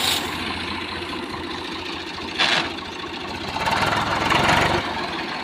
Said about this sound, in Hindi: देखो ये हमारा ट्रैक्टर है।